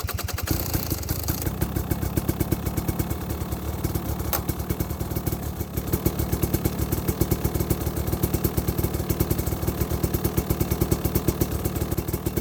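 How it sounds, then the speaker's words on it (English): A 2020 KTM 300xc TPI two-stroke enduro dirt bike idling while warming up, a rapid steady close-up engine putter with a rattly clatter throughout, alone without talk. "let's warm the bike up so it's ready to ride"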